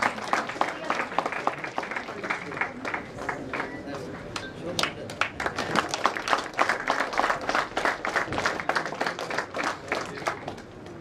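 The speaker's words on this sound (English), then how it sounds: "I request the audience to please give them a good round of applause and encourage the team." Audience applause at a prize ceremony for a cycling road tournament, steady clapping from a crowd running through the clip over a public address voice.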